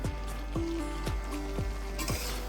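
Spoonfuls of spice landing in a pan of frying amla (Indian gooseberry), giving a steady close sizzle with a series of soft, regular scraping stirs and clinks repeating about every half second.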